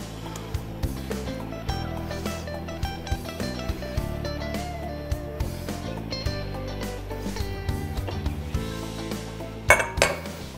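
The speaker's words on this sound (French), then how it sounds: "Là, je mélange bien." A spoon clinks and scrapes against a pot while venison stew with tomato paste and marinade is stirred, with irregular metallic knocks and rattles up close and a louder clatter near the end.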